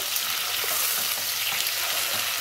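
Onions fry in oil over a slow flame for a crispy karela (bitter gourd) sabzi, giving a steady, close, even sizzle that runs without a break and with no voices.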